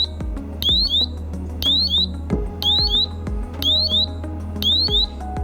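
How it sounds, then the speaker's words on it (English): A safety monitoring device goes into alarm mode, sounding a repeating electronic pattern of sharp clicks followed by rising chirping tones, about six cycles at a steady rhythm, loud and close. "if I were to put one of those devices into alarm again"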